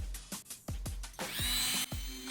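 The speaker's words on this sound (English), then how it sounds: "if you're using a Dremel like this, make sure you give it plenty of time to cool down, because this thing's working pretty hard to cut through this plastic" Dremel rotary tool cutting through the plastic of a Jeep JK rear bumper, a quick series of short, high whining bursts that start and stop sharply, then one longer grinding run, close and fairly quiet, with no talk.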